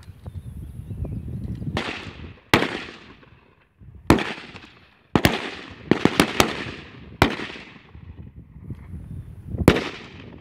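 Rifle shots at a league shooting range, about a dozen sharp loud cracks at irregular intervals, each with a quick decaying echo over quiet background.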